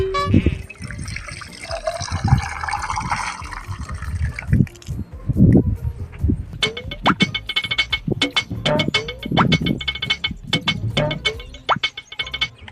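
Water is poured into a metal lota pot, a trickling, rising fill heard close with clanks and knocks of the vessel, followed by irregular splashes and drips, and some faint voices in the background.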